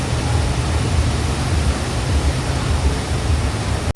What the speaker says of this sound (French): Bon là avec la cascade c'est assez bruyant